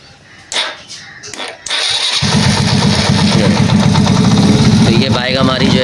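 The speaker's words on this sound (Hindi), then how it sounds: "और ये सारा कुछ कंप्लीट करने के बाद अब बाइक को हम स्टार्ट करेंगे सेल्फ से।" A 70cc motorcycle is started with its electric self-starter: a few short clicks and a brief crank, then the engine catches and settles into a loud, steady idle close by.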